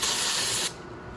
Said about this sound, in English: going to spray it on a rag and wipe it down.